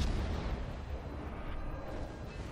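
Naval gunfire aboard the heavy cruiser Pensacola in World of Warships, a dense, continuous rumble of booming shell fire and explosions held at steady loudness throughout, with no clear gaps between rounds.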